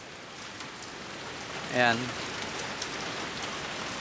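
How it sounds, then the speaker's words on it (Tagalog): Steady rain hisses down outdoors in a dense, even wash, broken about halfway through by a brief louder call or voice. "nagpakabasa ng ulan"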